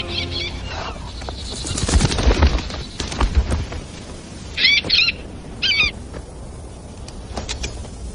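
A bird gives several short, harsh squawks in separate bursts over a rumbling, noisy indoor background with some thumps and movement.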